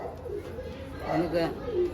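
Pigeons coo softly in a racing pigeon loft, low murmuring calls rising toward the end, with people talking over them.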